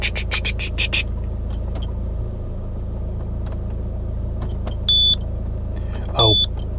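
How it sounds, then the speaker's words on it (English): An inexpensive French car's engine runs at idle with one fuel injector chuffing, giving a steady low rumble broken by a couple of short electronic beeps near the end. "now the engine's on, I can hear one of the injectors chuffing"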